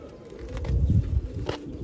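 Pigeons coo at close range in soft, low, throaty bursts, a few overlapping calls over quiet background noise with no talk.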